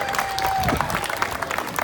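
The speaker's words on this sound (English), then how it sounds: "give her a little round of applause" Audience gives a short round of applause, a soft, dense patter of many hands with a faint crowd murmur underneath, lasting just under two seconds.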